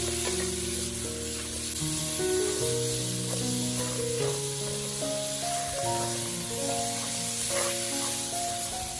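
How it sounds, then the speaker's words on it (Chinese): Pork ribs stir-frying in hot tea oil in a wok over medium-low heat give a steady, loud sizzle with a constant hiss, while background music plays throughout. "然后开中小火快速的翻动，把排骨里面的水分炒干"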